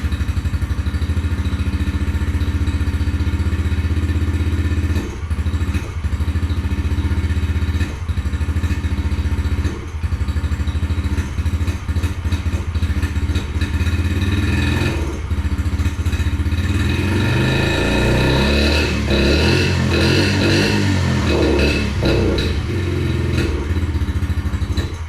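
A 2021 Yamaha TTR50 small dirt bike engine starts after choke and key, settling into a steady loud idle nearby, then revs repeatedly in rising and falling bursts toward the end, with occasional clunks.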